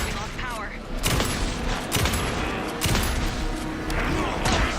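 Gunfire in the video game Alan Wake 2 rings out in several sharp, loud bursts spaced about a second apart, mixed with other game noise and a voice.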